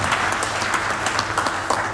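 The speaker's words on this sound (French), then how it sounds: "que nous puissions nous applaudir nous-mêmes" Crowd applause at a youth assembly in Cavally, a dense steady patter of many hands clapping throughout, fairly close and even, with no voices standing out.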